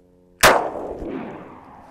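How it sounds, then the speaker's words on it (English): A single sharp 9mm shot from a Walther PPX pistol hits a level 4 body armor plate, giving one loud, close crack with a ringing, metallic decay that fades over about a second and a half. "I'm going to be starting with 9mm out of my Walther PPX."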